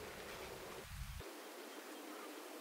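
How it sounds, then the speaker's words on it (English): A white noise ambience layer in a music track gives a steady, even hiss that fills the whole stretch. Partway through, its low end drops away, leaving a thinner, brighter wash. "white noise"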